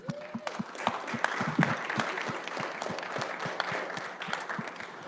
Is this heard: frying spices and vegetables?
no